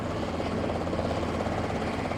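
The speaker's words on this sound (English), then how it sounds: "the flying machine of choice in these parts is definitely the chopper" A helicopter flies over mountain country near Revelstoke, British Columbia, its loud, steady rotor and engine drone filling the whole stretch without pause or voices.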